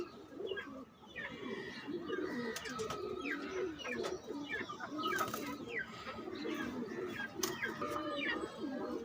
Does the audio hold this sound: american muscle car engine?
no